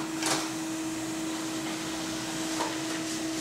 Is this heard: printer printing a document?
yes